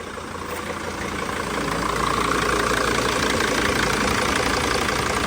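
A 2006 Dodge Sprinter diesel with a broken serpentine belt tensioner idles with the air conditioning switched on, giving a loud, steady, close rumble that swells slightly and then holds constant.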